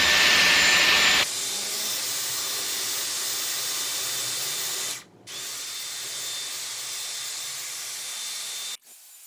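A Dyson Airwrap hair styler with a 40mm barrel blows heated air in a loud, steady, close whooshing hiss that shifts down in pitch after a second and cuts out briefly twice.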